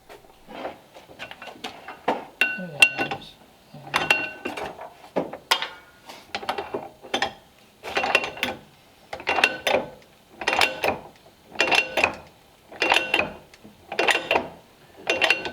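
A bearing splitter and shaft are forced in a press, giving a rhythmic run of mechanical clanks and ratcheting clicks, one burst roughly every second, steady and moderately close without talk.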